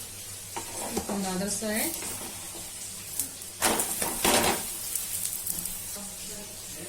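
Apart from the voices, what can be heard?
aloo paratha cooking with ghee on pan over medium flame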